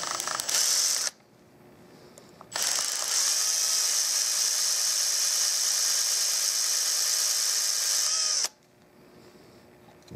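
A drill deepens a small shallow hole in an antique wooden nightstand, with a brief burst of whirring, then a pause, then a long steady high-pitched run of about six seconds before it cuts off, close by.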